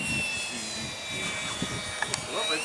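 A radio-controlled Viper model jet plane comes in to land on a windy day, its turbine whine steady under wind noise and people talking, with a few faint clicks near the end.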